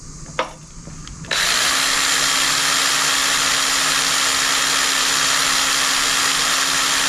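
Power drill spinning the oil pump of a Polaris SLT 750 snowmobile: a short clunk and rattle, then a steady, loud, continuous whine that runs unbroken to the end.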